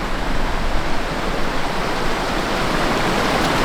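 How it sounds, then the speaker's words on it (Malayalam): A waterfall beside a campsite roars in a steady, loud, unbroken rush of falling water, close by and alone with no voices. "അടുത്ത നമ്മൾ ഈ വെള്ളച്ചാട്ടമാണ് ചെയ്യാൻ പോകുന്നത്."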